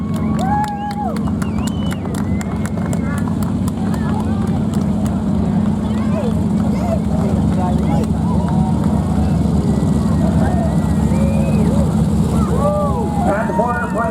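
Four propeller airplanes taxi out at the Roswell Air Races, a steady droning engine rumble at moderate distance, with scattered crowd voices and chatter over it.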